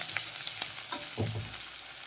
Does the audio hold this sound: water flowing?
no